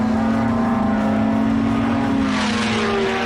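A high-performance import car accelerates hard, its engine droning loudly and steadily close by before the pitch climbs sharply near the end as revs build.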